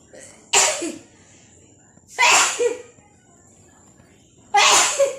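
Three sharp, loud sneezes ring out close by, each a sudden burst separated by a couple of seconds of quiet.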